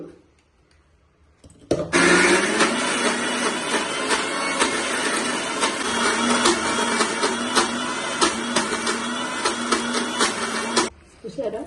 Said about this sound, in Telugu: ఇప్పుడు బొబ్బర్లు శనగపప్పు మిక్సీ చేసుకుంటున్నాను